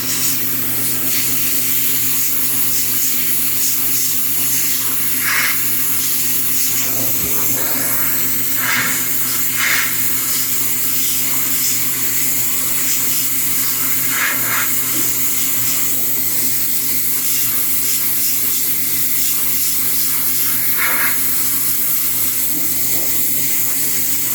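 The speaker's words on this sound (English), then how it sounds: "I'm actually aiming my airbrush more at this corner and not right in the edge there" Airbrush spraying paint onto a quarter-scale Samurai Wolverine model figure, a steady, close hiss of compressed air and paint that runs throughout with slight bursts and pauses in intensity.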